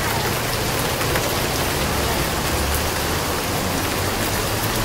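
Torrential rain pours down in Bangkok in a dense, continuous roar, loud and close, with no pauses throughout.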